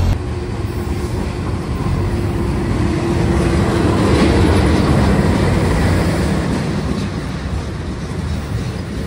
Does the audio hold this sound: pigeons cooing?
no